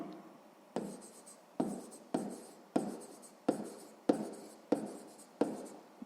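Pen strokes on paper while working a sixth-grade math exercise, a run of about nine short scratchy bursts, each sharp at the start and fading, close and fairly quiet with no talk.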